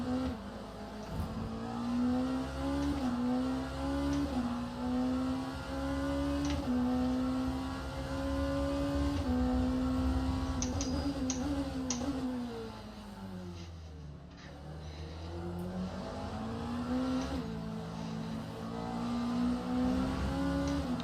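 Race car engines in a racing video game with Lamborghinis and other sports cars, a sustained loud engine drone with rising and falling revs through gear changes and a brief dip in pitch midway, with no talk.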